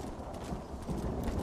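Horse hooves clip-clop at a steady riding pace in the Red Dead Redemption video game, a continuous rhythmic gallop under ambient game sound, with no voices.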